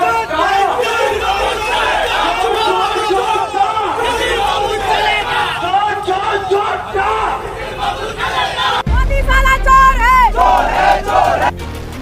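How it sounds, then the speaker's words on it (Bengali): A crowd at a political campaign rally chants "thief, thief" slogans, a loud rough mass of shouting voices close by, joined near the end by a rising surge of louder cheering and horn-like tones. "তৃণমূলের প্রচার সভা থেকে শুভেন্দুকে লক্ষ্য করে চোর চোর স্লোগান ওঠে"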